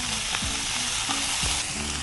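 Broccoli and mixed vegetables sauté briefly in a hot pan for a Thai sizzler. A dense, steady sizzle is heard up close with a few scraping stirs and no voices.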